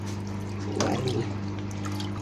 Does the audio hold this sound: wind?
no